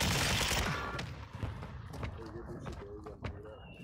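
Mortar strikes in the video game Warzone 2: a loud rumbling blast at the start decaying into scattered thumps and sharp impacts, with speech-like game sounds mixed in.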